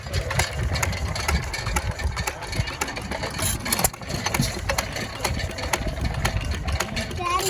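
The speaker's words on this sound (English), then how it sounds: "This is a hit miss Stover Model 10," Antique 1912 Stover Model 10 hit-and-miss gas engine of 1.5 horsepower, grinding corn, running with an uneven chugging beat under outdoor crowd chatter and voices, with scattered sharp clanks over a low mechanical rumble.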